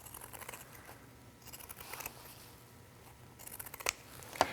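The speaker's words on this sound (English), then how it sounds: "We'll use our pinking shears and we'll trim around the curves." Pinking shears trim around curved fabric edges of a waterproof backpack flap, making a few soft, close crunching snips over a quiet background, with no talking.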